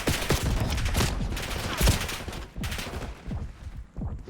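Rapid video game gunfire from shooting practice crackles in dense, loud, continuous bursts with brief gaps, close and alone.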